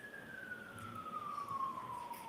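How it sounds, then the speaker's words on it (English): A siren passes outside, with a single steady wail that slowly falls in pitch, faint and distant over a low background rumble. "let me just let the siren move on. Yeah, those sirens"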